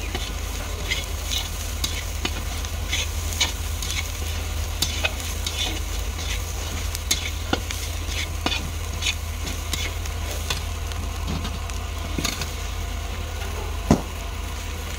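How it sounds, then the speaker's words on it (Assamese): Onions with turmeric frying in a pan, a steady close sizzle with scattered clicks and scrapes of stirring running throughout. "এতিয়া মই পিঁয়াজখিনিতে হালধি দিলোঁ সোৱাদ অনুসৰি আৰু অকণমান সময় ভাজি দিছোঁ।"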